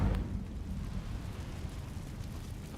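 Incendio fire spell cast in a video game, a deep fiery burst at the start that trails off into a low rumbling roar.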